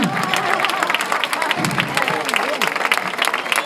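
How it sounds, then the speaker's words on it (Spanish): An audience at a Moros i Cristians festival proclamation in Manises claps together in a dense, steady patter of applause, with a voice faintly mixed in. "Aplaudir todos juntos y esto queda ya de categoría"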